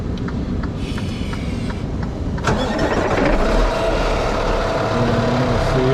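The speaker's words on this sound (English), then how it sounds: "we're gonna start this truck up and we're gonna put it in regen" A Freightliner truck with a Detroit engine cranks and fires up, its starter whirring before the diesel catches and settles into a steady, loud idle close by, with no talking over it.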